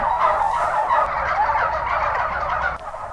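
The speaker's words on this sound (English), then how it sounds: "these turkeys are getting ready for their big day" Farm turkeys gobble in a dense, continuous chorus, many birds calling at once close by and loud, with no talking.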